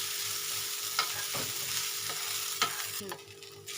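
Sabudana with salt and a little sugar being lightly fried and stirred in a pan, giving a steady close sizzle with a few soft scraping strokes of the spoon and no talk.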